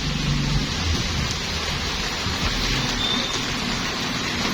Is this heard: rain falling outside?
yes